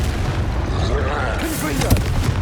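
Confringo fire spell blasts in the Hogwarts Legacy video game, heavy booming bursts that rumble under a loud shouting voice.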